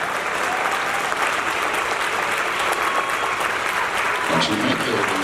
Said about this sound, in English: I dare you to stop them applause